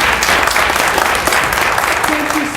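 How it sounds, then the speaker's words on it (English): Audience at a political forum in Alberton, Montana giving the candidates a round of applause, loud dense continuous clapping filling the room, with a voice faintly audible near the end. "these gentlemen also deserve a round of applause."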